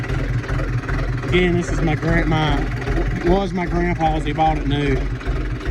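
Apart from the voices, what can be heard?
1969 Case 770 tractor engine running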